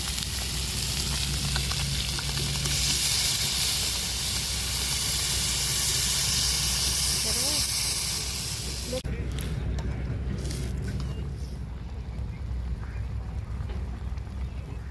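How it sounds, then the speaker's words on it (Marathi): Loud, continuous sizzling and hissing from a hot pan; the hiss fades noticeably partway through, leaving a quieter bubbling, with a voice speaking. "बघा आता पाणी ओतून घ्यायचं आहे त्याच्यामध्ये"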